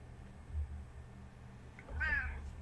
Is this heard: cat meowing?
yes